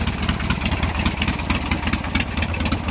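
A Hammer 1275 motorcycle engine fitted with Andrews N2 cams idles after warming up, with a loud, close, lumpy and steady rhythmic chug and even pulses throughout.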